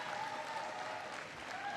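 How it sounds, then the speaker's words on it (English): Applause from a crowd at Nashua Community College during a speech by President Obama, a fairly faint but steady wash of clapping heard from a distance. "Give Lucille a big round of applause"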